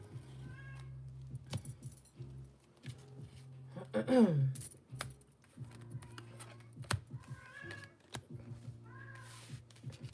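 A cat meows several times, with one drawn-out, falling meow standing out, amid close clicking and rattling that sounds like keys or typing.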